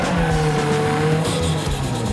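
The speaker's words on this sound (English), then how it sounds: "We're literally just doing donuts right now so that people think it's over and go home." Gymkhana car doing donuts, its tires squealing continuously over a steady engine roar, loud and sustained throughout with shifting pitch as it spins, no talking.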